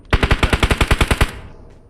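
Rapid automatic gunfire in PUBG: a burst of about twelve evenly spaced, loud shots, then a fading echo tail.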